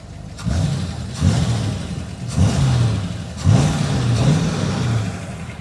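A 1962 Chevrolet Corvette 327 V8 engine, recently tuned up, rumbles at close range, revved in repeated bursts roughly every second, each rise falling back to a throaty idle.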